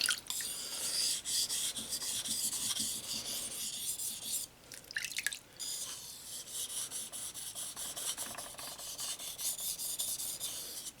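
A kitchen knife is drawn repeatedly across a whetstone from a three-stone kit, making a continuous close, fine rasping scrape with quick strokes and one short break midway.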